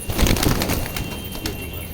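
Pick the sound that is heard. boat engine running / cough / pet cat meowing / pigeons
pigeons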